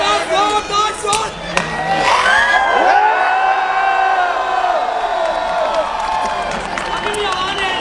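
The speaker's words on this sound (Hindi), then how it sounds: "अब एक बार जोरदार शोर।" A big crowd at the Wagah border ceremony near Lahore roars and whoops loudly, the cheering swelling after a brief shout and holding steady, close and dense.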